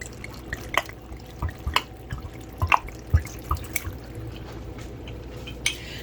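Water splashes and drips into an Instant Pot in irregular bursts, with scattered louder plops over a steady faint liquid background.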